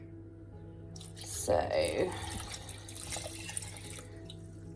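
Water poured into a pressure cooker in a home kitchen, a short splashing gush swelling for about a second midway through and then trickling off, close by, with a voice speaking briefly over it.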